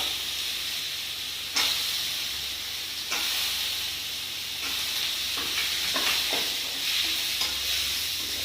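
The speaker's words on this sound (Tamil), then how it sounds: "கத்திரிக்காய் போட்டு எண்ணெயிலே கொஞ்சம் வதக்கிக்கலாம்" Eggplant sautéing in hot oil for sambar gives a steady close sizzle and hiss, broken by several scraping stirs of a spoon in the pan.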